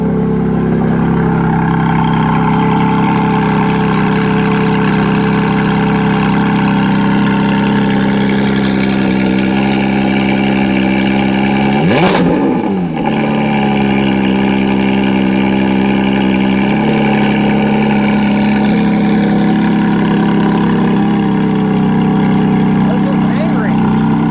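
A 2023 Porsche 718 Cayman GT4 RS Weissach Package idles with a loud, steady engine drone, briefly blipping and settling near the middle before holding its even hum to the end.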